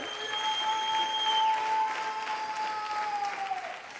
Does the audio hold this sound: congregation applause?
yes